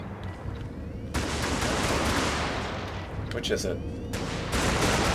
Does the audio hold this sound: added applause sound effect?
no